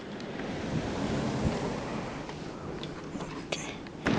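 Strong gusts of wind from Superstorm Sandy roar and buffet the microphone in a steady, loud rush, with brief sharper whistles and bumps near the end.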